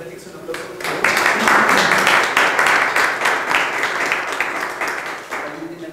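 Audience at a maths talk applauds the speaker Félix: a dense wash of clapping swells after a second, holds steady and fades near the end, with a voice talking over it.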